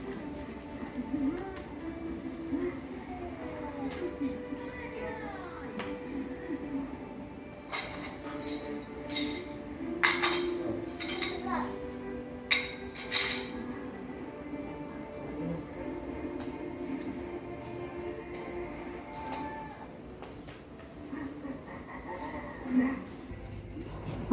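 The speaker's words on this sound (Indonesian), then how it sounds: "ini lanjut aku mau nyuci piring yang bekas tadi masak sama makan" Home dishwashing after cooking and eating: cookware and plates clink and clatter in scattered bursts near the sink, with someone talking quietly over a low background hum.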